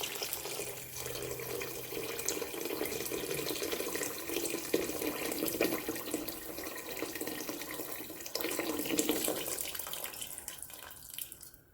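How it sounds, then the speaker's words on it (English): Warm water from a kettle poured steadily into a cooking pot for a vegetable and meatball caldo, a continuous splashing trickle lasting several seconds, close and even, with no talking. "And then I will add my liquid."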